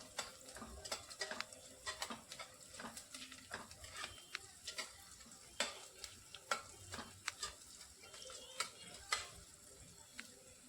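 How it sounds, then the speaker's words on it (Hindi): Onions frying quietly in a pan for Hyderabadi bagara rice, a soft sizzle broken by frequent light scraping and tapping of the spoon as they are stirred. "तो प्याज का कलर थोड़ा हल्का सा ब्राउन कलर हो जाए तब तक इसे भून लेना है।"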